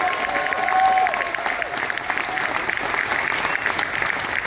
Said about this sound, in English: Please keep that applause going for our sound and our lights and our backstage boys.